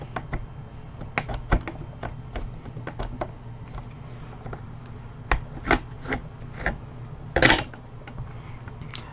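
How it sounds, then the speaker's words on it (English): Metal parts of a Chiappa PAK 9 pistol being handled as the bolt is slid into position on the receiver during a field strip, with a series of sharp close clicks and scraping rubs spread irregularly over several seconds. "that's where you would slide the bolt first. You'd put it in position there and then slide forward"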